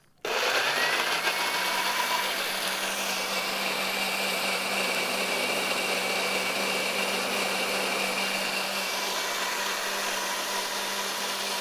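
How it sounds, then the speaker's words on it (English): Kitchen blender running continuously as it purees food until smooth, starting abruptly with a loud steady motor whir that holds nearly unchanged to the end, close up with no talking. "And we're going to blend this up."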